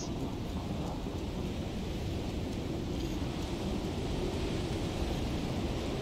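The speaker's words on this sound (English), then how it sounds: "The storm is doing damage." A steady thunderstorm rumble with heavy rain sweeps through the Icarus survival game, a continuous dense wash of storm noise with no voices.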